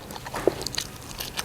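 One quick, soft crunch of a bite into a Thai khanom jeen rice-noodle curry meal, close and brief against quiet room tone.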